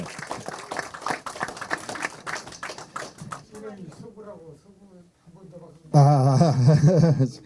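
Audience applause fills the first few seconds at a political party leader's book launch event, a dense burst of clapping that fades as a voice takes over and speaks loudly over the room.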